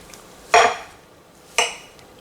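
Two sharp metallic scrapes of a utensil against a frying pan, about a second apart, as canned corned beef is cut up in the pan, with quiet between them.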